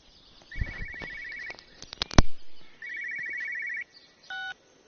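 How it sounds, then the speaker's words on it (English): Telephone ringing in the video game Everyone's Gone to the Rapture: two bursts of rapid electronic trill, each lasting about a second, separated by a loud sharp clatter, with a short higher tone at the end. "there's a phone right here"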